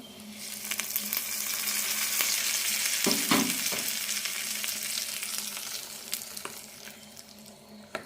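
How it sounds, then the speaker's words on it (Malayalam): Mustard seeds, dried red chilli, roasted chana dal and curry leaves tempered in hot oil for coconut chutney, a steady close sizzle and crackle with a sharp burst of popping midway, no voices. "ചട്നിയിലേക്ക് വറുത്തിടാം"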